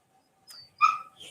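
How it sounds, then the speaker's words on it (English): A puppy gives a couple of short, high yips and a bark in quick succession, close but fairly quiet, with silence before them. "if we hear a barking dog"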